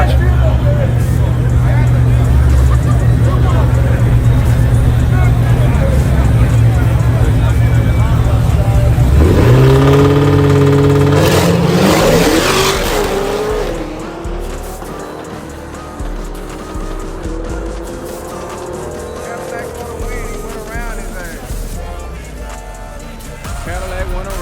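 Nitrous-fed Coyote-engined Mustang in a drag race, a loud engine rising in pitch through several seconds of hard acceleration, then fading into a distant drone beneath steady crowd chatter and talk.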